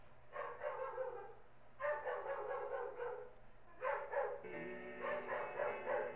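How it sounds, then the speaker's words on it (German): A dog barks in three loud bursts of rapid yapping, close by, with short pauses between the bursts over a low steady hum. "mein Hund! Mein Hund!"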